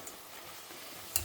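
Spices and bay leaves sauté in a pan during Tamil home cooking, giving a soft, steady low sizzle with one brief clink near the end.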